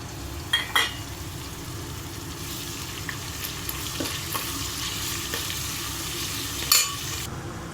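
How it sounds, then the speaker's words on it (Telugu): Smashed garlic sizzling steadily in a hot pan, with a few sharp clinks and scrapes of a spoon stirring it, no talking. "ఇందాక మనం వెల్లుల్లి దంచుకున్నాం కదండి, స్మాష్ చేసుకున్నాం కదా, ఇది ఇందులో వేసి ఫ్రై చేసుకోవాలి బాగా"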